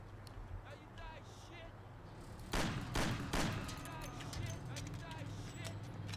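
Video game gunfire rattles through a wall in a few sharp bursts, loud against a steady background hum, while someone talks over the shooting.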